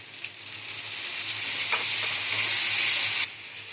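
Spice paste stirred into water is poured into a hot pan for a potol curry with Gobindobhog rice, bursting into a loud, steady hiss and crackle that cuts off abruptly near the end.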